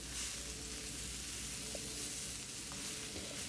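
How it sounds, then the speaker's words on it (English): Seasoned jackfruit and oyster mushrooms with Creole seasoning fry in a cast iron pan, giving a steady, soft sizzle throughout with faint crackles and no talking. "I like to cook the jackfruit and the oyster mushrooms in the pan first"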